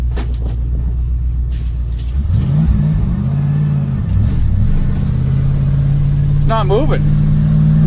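An old vehicle's engine rumbles loudly at close range and revs up in rising swells as it is driven out, with a voice speaking briefly and a short squeal near the end.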